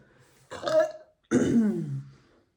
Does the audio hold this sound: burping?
yes